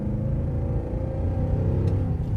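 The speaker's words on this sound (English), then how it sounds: "Every time you touch acceleration pedal, every time you enjoy it." A BMW X5 E53 SUV at full throttle gives a steady, loud, low engine rumble and drone from inside the cabin, holding constant throughout without pause.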